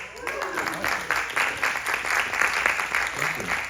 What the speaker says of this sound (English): I always get the applause